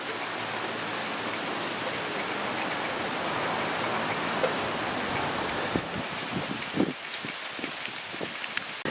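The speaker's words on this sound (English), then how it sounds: "As you can see, the rain is starting to fall and it's a little windy." Steady rain falls during Hurricane Harvey's landfall in San Antonio, pattering continuously with gusty wind, a constant broadband wash throughout with a few louder drips and splashes near the end and no talking.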